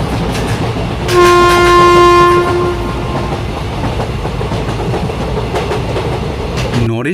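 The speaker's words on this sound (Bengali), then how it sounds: "নরেশগঞ্জে যখন ট্রেন পৌঁছল" A train pulls into a station at night, a loud sustained horn blast sounding over continuous rumbling wheels, then fading back into the steady rolling clatter.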